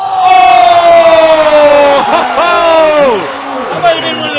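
A basketball tournament crowd in a school gym erupts with loud, close cheering and shouting after a layup. The roar swells at once, then gradually fades.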